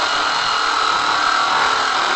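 Power drill boring through a chunk of felled scrap wood while making a plant pot, a steady, loud continuous whine and grind with no pauses, close to the listener.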